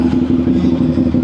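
Motorcycle engine idling at a busy motorcycle dealership test-ride event, a steady low throbbing rumble with light clatter, close and fairly loud throughout.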